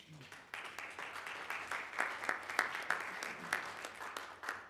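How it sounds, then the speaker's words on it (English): An audience at a Detroit Independent Schools alumni networking event applauds its panelists: a steady round of many hands clapping close by, with sharper individual claps standing out, building a little and then holding, with no talk over it. "let's give all of our panelists a round of applause"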